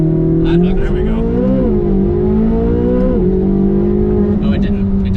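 A 2024 Corvette Z06 engine holding loud, steady revs at the line during a launch control start, its pitch wavering slightly up and down, close and constant with voices talking over it.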